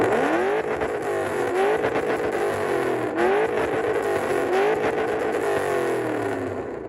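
A Ford Crown Victoria's engine revs repeatedly toward 8,000 RPM, each loud, close pull rising in pitch before dropping back, in several sustained cycles with no talking.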